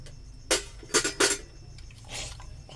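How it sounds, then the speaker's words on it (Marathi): Metal pot lid clattering onto a cooking pot of carrot halwa in a home kitchen, a few sharp clinks and rattles in quick succession, then a softer scrape as it settles. "मी तवसर झाकण ठेवून देतो"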